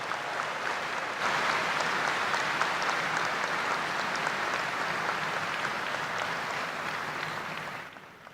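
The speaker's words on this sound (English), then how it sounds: "So another round of applause for Fifth Third and Greg." Sustained applause from a large audience at a university graduation recognition ceremony, a dense, steady wash of many hands clapping for about eight seconds before fading at the end.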